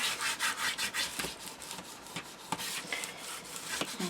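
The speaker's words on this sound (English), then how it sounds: "Now I'm going to burnish this all down now before we come" A craft project being burnished down by hand, a steady run of close, dry rubbing strokes in quick rhythm, with no talking.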